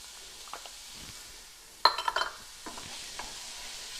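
Onions and garlic hit a hot pan with olive oil, giving a sudden sizzle that flares up and then settles into a soft, quiet crackle, with light clinks of a utensil against the pan, close by.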